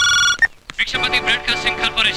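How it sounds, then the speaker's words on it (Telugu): A brief electronic phone ring sounds at the start, followed by a short gap and then loud, busy music. "ఇదిగో ఫోన్ వచ్చింది"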